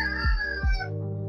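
A rooster crowing as a chicken sound effect, two short harsh calls in quick succession, loud and close, with a sustained tonal backing underneath.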